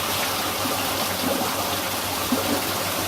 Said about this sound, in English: So I'm going to turn the pumps on. It'll just take a while for the pump for the flume to prime.